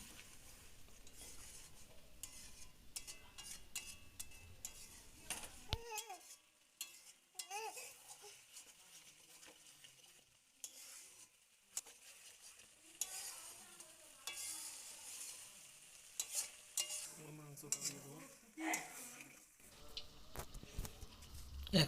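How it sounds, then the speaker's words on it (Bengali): A spice masala with green chillies for chicken curry is stirred in a pan, with intermittent scraping and clinking over a soft frying sizzle, fairly quiet and close, with pauses between strokes. "মশলাটাকে খুব ভালো করে কষিয়ে নিতে হবে।"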